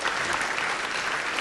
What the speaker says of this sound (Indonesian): Tepuk tangan buat STKIP Surya.